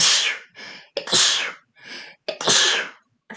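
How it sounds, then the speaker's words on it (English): A person sneezes repeatedly at close range: three sharp, loud bursts, each with a quick inhale before it, in an otherwise quiet room. "I'm just going to sneeze."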